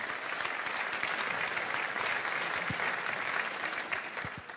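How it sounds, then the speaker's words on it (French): Sustained audience applause at a press conference for the Transat Jacques Vabre Normandie sailing race, a steady wash of many hands clapping at even loudness throughout, with no voices on top. "11e participation, ça s'applaudit,"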